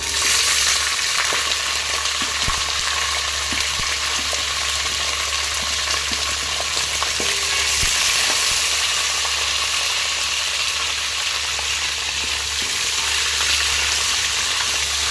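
Chopped cluster beans fry in hot oil in a pan for a mixed vegetable rice dish, a steady loud sizzle with occasional stirring scrapes and clinks throughout.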